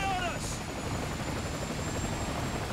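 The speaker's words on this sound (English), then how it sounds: "here we got the helicopter" A helicopter in the Call of Duty: Ghosts video game gives off a steady rotor and engine drone that fills the scene, with a brief higher tone near the start.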